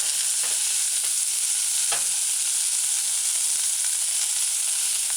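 Meatballs frying in oil with onions in a pan, giving a steady, loud, close sizzling hiss with a few faint pops and crackles throughout.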